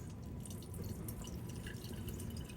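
Juice drains from fresh garden produce being prepared for canning, a faint, steady trickle with rapid drips and no one speaking.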